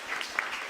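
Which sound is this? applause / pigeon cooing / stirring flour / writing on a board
applause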